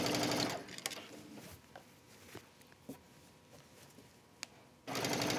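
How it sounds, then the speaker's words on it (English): A sewing machine stitches around a thick Ponte knit wrap dress, its steady mechanical whirr loud and close at the start and end, easing into softer, intermittent stitching and light handling clicks in between. "So I'm just going to hold it in place and keep stitching around."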